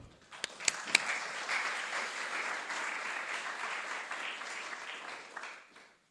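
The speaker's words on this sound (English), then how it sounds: "please welcome with a very warm round of applause to the stage" An audience applauds to welcome a speaker to the stage at a Pininfarina art and design event, a few sharp claps rising into a full, steady wash of clapping that holds for several seconds before fading out.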